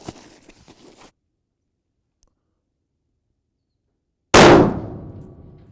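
A single loud, sharp rifle shot from a Browning X-Bolt 2 Speed hunting rifle rings off a steel target, the impact's clang decaying over about a second after a long stretch of quiet.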